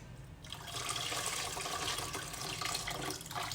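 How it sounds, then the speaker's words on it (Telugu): Broken rice is washed by hand in a vessel of water, a close, steady sloshing and swishing that starts after a brief quiet moment and continues without speech. "మంచిగా బాగా పిసుకుతూ నూకలన్నీ కడుక్కోవాలి."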